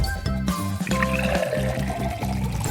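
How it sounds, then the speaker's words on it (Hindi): Boiling water is poured onto instant noodles in a steady, gurgling stream, with background music playing underneath. "इसे खोलो और इस पर उबलता पानी डालो"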